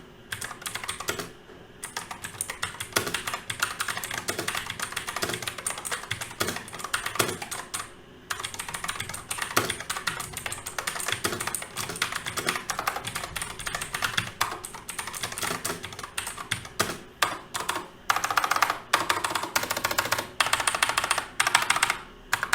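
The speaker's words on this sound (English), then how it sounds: "So let's go over the sound and the sound test for this keyboard." Fast, continuous typing on a Quantum QHM9800 hot-swappable mechanical keyboard, dense clacking keystrokes close up with brief pauses and a few louder bursts toward the end, no voices.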